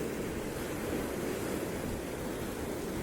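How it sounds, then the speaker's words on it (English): Ocean waves break steadily on rocks below a seaside hotel at Sihanoukville, a continuous, dense wash of surf with wind noise and no clear individual crashes. "awoken by the waves breaking on the rocks below my hotel room"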